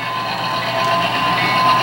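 Southern Pacific black-and-white F7 diesel units running on a model railroad layout give a steady, continuous rolling rumble and whir at close range, with no voices.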